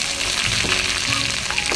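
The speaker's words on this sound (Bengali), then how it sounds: "লঙ্কাটা ভালোভাবে ভাজা হয়ে গেলে বন্ধুরা দিয়ে দেবো এই তেলের উপরে আদা কুচি করা।" Chopped ginger dropped into hot oil with fried dried red chilli and a bay leaf, crackling in a dense, continuous sizzle, loud and close, with no talk.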